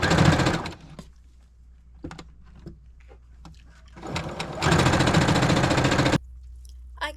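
Sewing machine stitching the seams that join the top and bottom of a summer skirt, running in a short burst, then light handling noises, then a longer steady run of fast stitching before it stops.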